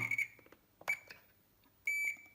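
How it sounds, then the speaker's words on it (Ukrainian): A Tesla Wall Connector Type 2 three-phase 22 kW charger emits short, high electronic beeps: a quick triple beep, a single beep, then a longer tone, loud and close with quiet gaps between. "Що воно пищало і перестало?"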